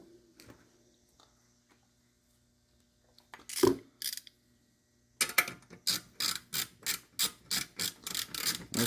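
A wrench snugging a bolt on a Gen 5 Camaro SS oil cooler adapter: a few isolated clicks, then a quick run of rhythmic ratcheting clicks, close and crisp in a quiet garage.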